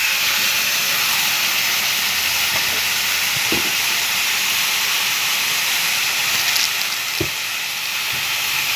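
Ginger and chili paste sizzling in hot oil in a pan, a steady loud frying hiss that runs unbroken throughout, with a couple of faint knocks.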